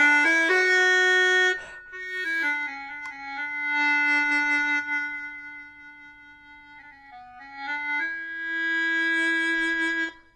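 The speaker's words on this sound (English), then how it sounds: "But if I blow more strongly with more force, it sounds like this." A loud, bright Greaten Music AP300 electronic wind instrument, blown strongly, holds long sustained notes with rich buzzy harmonics, swelling and dipping in volume, played close and alone.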